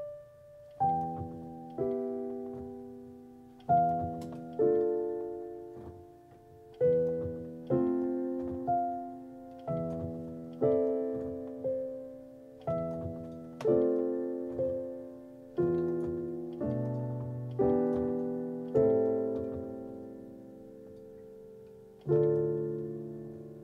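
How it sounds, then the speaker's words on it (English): Solo piano playing part of Erik Satie's Gymnopédie No. 1, slow gentle chords struck at steady intervals and left to decay, quiet and alone. "Today we're learning the last piece of the Gymnopédie, No. 1 piano tutorial series"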